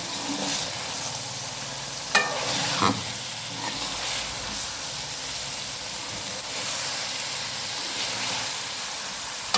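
Potato, pea and carrot sabzi with coriander leaves sizzles steadily in a pan while a spoon stirs it, with a couple of sharper scrapes against the pan near the start and no talk.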